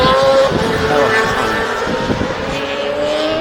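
British Superbikes racing at Oulton Park, with loud, close engines screaming and rising in pitch as the bikes accelerate past, under a commentator's voice.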